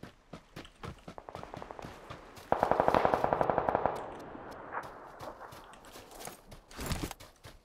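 Rapid automatic gunfire in PlayerUnknown's Battlegrounds, a burst of evenly spaced shots in the middle standing out loudly against scattered footsteps and other in-game noises, with isolated shots before and after.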